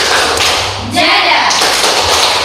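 A classroom of students performs the 'tepuk manjada wajada' clap chant, with a few sharp, close thumping claps mixed in with their chanting voices.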